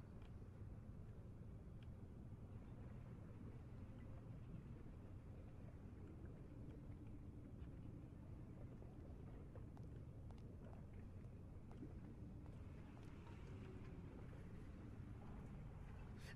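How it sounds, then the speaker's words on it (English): A low, steady boat engine rumble in the video game Syberia 3 runs faint and continuous throughout, with a windy, washing texture and no speech. "Well, it sounds like a boat."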